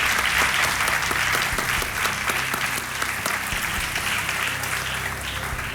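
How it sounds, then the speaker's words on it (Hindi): A studio audience on the KBC quiz show applauds in a dense, continuous wash of clapping that stays loud and steady across the whole stretch, fading only slightly toward the end. "तालियों के साथ आपका स्वागत।"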